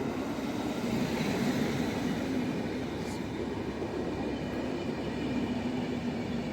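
Train at Warszawa Wschodnia station, a Gdynia Główna service with a combo car and second-class coaches, gives a steady, loud rumble of rolling wagons that holds evenly throughout with no clear breaks.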